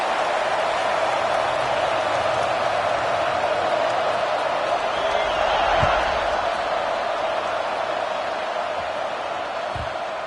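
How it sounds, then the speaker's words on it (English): A large video game football stadium crowd roars in a constant, dense wall of noise, swelling slightly midway, with no distinct voices standing out. "It's early, but this crowd is fired up. Listen to this noise here."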